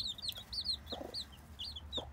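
Chicks give rapid high-pitched cheeps and a few soft low clucks, quiet and close, with no talking.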